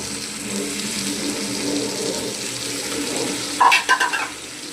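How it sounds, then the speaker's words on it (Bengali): Water is poured briefly into mung dal cooked with rohu fish head, a short splashing burst near the end over a steady background sizzle of the simmering pot. "অল্প জল দেবো"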